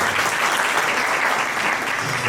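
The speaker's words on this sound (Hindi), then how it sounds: "आप खुद के लिए जोरदार ताली बजाइए।" Dense, steady applause from a parenting seminar audience fills the hall from start to finish, loud and continuous with no break.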